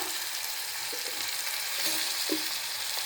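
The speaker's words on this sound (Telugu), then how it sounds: "అది కూడా కొంచెం వేగాలి" Dried fish and broad beans fry in a pan with ginger-garlic paste for a tamarind-leaf curry, making an even, loud, close sizzle with a few faint stirring taps and no speech.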